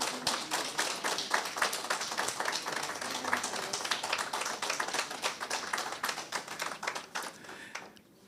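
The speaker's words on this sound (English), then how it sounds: "I think that that round of applause doesn't really capture the powerful presentation that Carla gave." An audience applauds at the end of the 9th annual Sir Probyn Inniss Memorial Lecture, crisp dense clapping from many hands, moderately quiet and sustained before stopping abruptly at the close.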